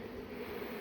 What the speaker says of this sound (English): bees that are still circling over there are starting to make their way this way